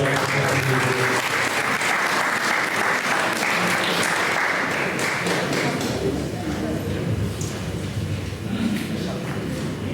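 Loud sustained applause from the audience at a poetry contest, a thick wash of clapping with some thumps and taps that thins out toward the end as the room settles.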